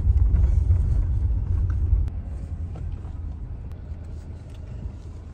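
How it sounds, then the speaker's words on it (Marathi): A car rumbles along at close range with a steady low engine drone that eases off after the first couple of seconds, as if slowing to park, then idles quietly with no talking. "आता मी गपचूप गाडी लांब लावतो"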